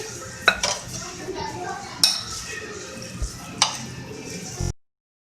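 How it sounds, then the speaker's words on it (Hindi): Egg, vegetable and mayonnaise sandwich filling mixed in a bowl: about four sharp spoon-on-bowl clinks with soft scraping between, close by, then cutting off abruptly. "अच्छा, इन तमाम चीज़ों को अच्छी तरीके से मिक्स करेंगे।"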